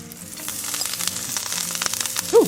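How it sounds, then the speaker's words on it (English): Greens and garlic sautéing in unsalted butter in a hot skillet, a close, steady sizzle with light stirring crackles and a brief louder scrape near the end. "So I'm doing a quick saute on the greens and the garlic"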